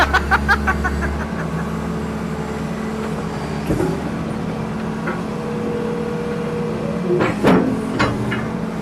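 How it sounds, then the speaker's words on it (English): An old, abandoned backhoe that doesn't work right runs its diesel engine while reversing, a steady rumbling drone with a few clanks and hissy bursts close by. "Time since I operated a backhoe"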